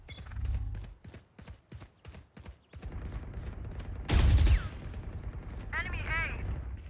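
Gunfire in the video game Valorant: rapid, evenly spaced close shots in a steady burst, followed by a louder heavy blast and further weapon and ability effects, with voices talking over the action.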